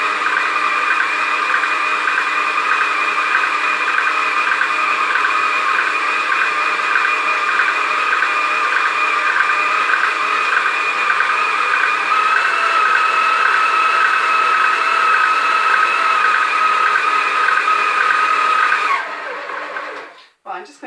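An electric whisk runs at a high setting, beating lemon and elderflower buttercream in a steady, loud continuous whir. It cuts off abruptly near the end.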